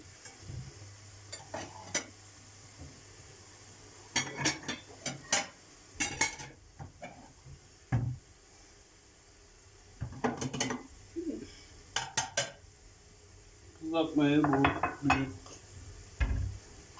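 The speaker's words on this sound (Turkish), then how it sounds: "Kızartmamızı çıkartalım şimdi." Fried food is lifted out of a pan in a home kitchen. Metal utensils scrape and clink against pots in scattered bursts with quiet gaps between them, followed near the end by a brief sizzling, rattling flurry.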